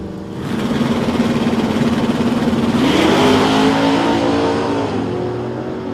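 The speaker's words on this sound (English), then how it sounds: "That lovely sound of just a carburetted small block." A carburetted small-block V8 engine at a drag-racing test and tune night revs steadily and loudly, its pitch climbing smoothly midway as the throttle opens, with a rough, burbling mechanical tone throughout.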